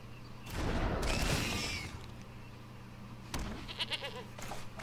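Goat bleating in the card game MTG Arena, a quavering bleat rising over a low steady hum, followed by sharp game effect sounds and clicks.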